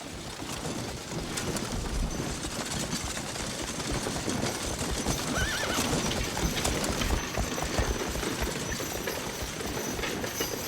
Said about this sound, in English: Supply wagons coming in.